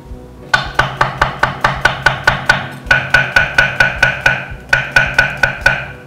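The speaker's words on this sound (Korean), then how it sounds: "이제 얇게 썰을 거예요." A knife slices zucchini thinly on a cutting board in fast, even strokes, about twenty crisp, close chops landing in quick runs with brief pauses between them.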